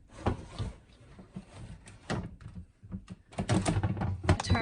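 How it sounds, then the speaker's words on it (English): Front door being fitted onto a nine-tray food dehydrator loaded with cilantro: several close plastic clicks, knocks and scrapes in irregular bursts, growing busier toward the end. "So we're gonna put the front door on."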